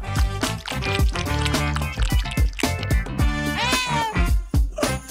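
Cats meow repeatedly in a pet cat house, several drawn-out, rising and falling cries over busy background sound with soft wet squishing noises.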